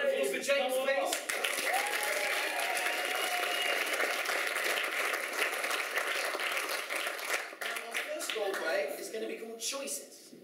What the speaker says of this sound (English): Round of applause for James, please.